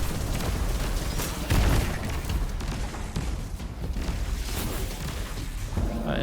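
Blinding grenades detonate in Destiny 2 during a Grandmaster Nightfall, a dense roar of booms and bursts with one heavier blast near the middle over continuous game noise.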